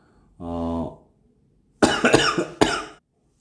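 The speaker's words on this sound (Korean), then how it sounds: "미안합니다. 기침이 너무 나서." A short voiced throat sound followed by a pause, then a harsh burst of close, loud coughs, two of them in quick succession.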